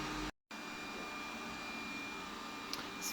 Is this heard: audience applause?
no